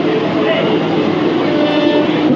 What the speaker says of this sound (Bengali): ট্রেন এখন এসে পৌঁছেছে আন্দুল স্টেশনে।